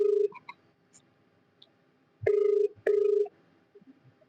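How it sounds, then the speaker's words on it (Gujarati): A mobile phone call to a friend rings through with two long steady ringback tones, each about half a second, separated by a short gap and preceded by faint clicks, heard alone without talk. "ફોન લગી રહ્યો છે"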